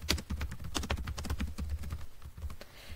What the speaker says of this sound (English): type in the box right here